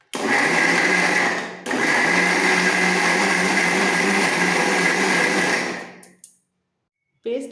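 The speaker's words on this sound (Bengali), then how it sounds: "সমস্ত মশলা ঠান্ডা হয়ে যাওয়ার পর মিক্সি বাটিতে তুলে নিয়েছি এবার একটু পেস্ট করে নেবো ভালো করে" Mixer grinder blending cooled tomato, onion and spices into a paste, a loud, close, steady high-pitched whir that cuts out briefly, resumes, then stops, with a short restart at the end.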